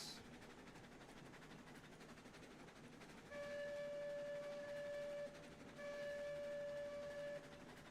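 A train whistle sounds twice in long steady blasts, one after the other, over the rumble of a moving train hauling a load of lumber and beams to an iron mine.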